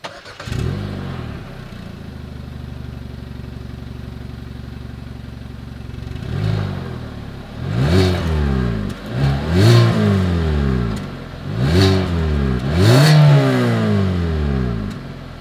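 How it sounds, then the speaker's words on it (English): A 2021 Hyundai Venue's exhaust idles steadily, then is revved in several sharp, rising bursts that fall back between blips, close and loud with no talking. "As always, here is that exhaust clip."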